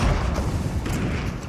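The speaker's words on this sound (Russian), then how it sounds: "взрывы слышу" Low, booming explosions in the video game Fortnite, a heavy rumbling blast opening the moment followed by a second muffled burst and lingering rumble.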